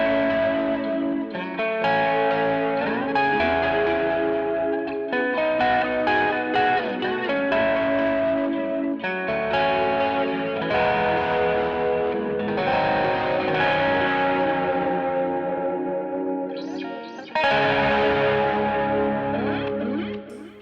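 An electric guitar played through a Tube Screamer overdrive pedal on a Boss ES8-based pedalboard rings out in sustained, gritty chords and melodic lines with a warm, mildly distorted tone, loud and continuous.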